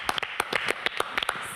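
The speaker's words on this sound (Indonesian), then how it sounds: "kita kasih tepuk tangan dong untuk Papa-papahan" Scattered handclaps from a small studio audience on a health talk show, uneven and sparse sharp claps rather than full applause, alone without talking.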